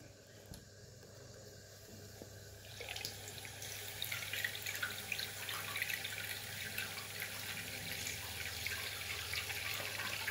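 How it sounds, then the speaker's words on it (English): Water runs from a bathroom tap, first as a low steady trickle and then, after about three seconds, as a louder, fuller splashing stream that keeps going without voices. "Put the water in."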